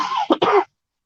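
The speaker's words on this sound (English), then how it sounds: "pardon me, that's made me cough now" A man's two sharp coughs in quick succession, close and fairly loud, set against a continuous voiced, throat-clearing sound, then silence.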